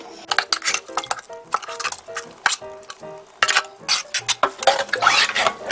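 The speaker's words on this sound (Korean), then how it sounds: "믹서에 갈은 양념을 넣어주세요." Blended seasoning is added to cucumber and young napa cabbage water kimchi while utensils clink and scrape against a bowl in irregular, close bursts of stirring.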